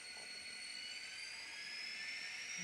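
N scale SD40-2 model diesel locomotive with a sound decoder, running in notch 2 and giving a steady, faint, high-pitched mechanical whine with a slowly rising tone, with no voices over it.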